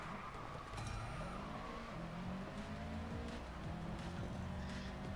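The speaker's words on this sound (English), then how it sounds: "those cars are having a bit of better acceleration" Race cars in the Racing Master video game accelerate in a steady, loud engine drone with rising and falling revs and occasional tire squeal, continuous for several seconds without talk.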